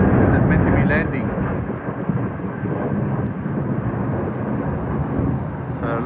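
A passenger airplane abandoning its landing and climbing away, a loud, steady low roar of jet engines that swells slightly and stays dense throughout, with voices faintly underneath.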